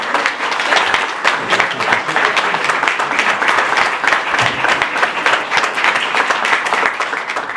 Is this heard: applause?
yes